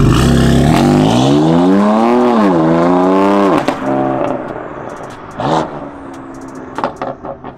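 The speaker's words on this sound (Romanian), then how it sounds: "acum o să fac o plecare de pe loc să vedeți cum se aude și în mers" BMW M4 fitted with a new downpipe exhaust pulling away from a standstill, a loud close engine roar rising steadily in pitch through the revs, then cutting off, followed by quieter bursts of revving.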